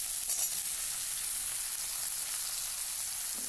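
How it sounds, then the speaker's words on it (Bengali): Vegetables lightly frying in a pan for a chorchori, a constant bright hiss of oil close up, steady and unbroken with no talk over it. "এই সবজিগুলো একটু হালকা ভাজা হলে তারপর আমি বেগুন আর ওই কপির ডাঁটাটা দিয়ে দেব।"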